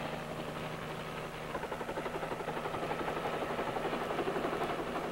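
A Marine helicopter sounds faintly in the distance, a low steady drone that grows into a rhythmic rotor pulse partway through.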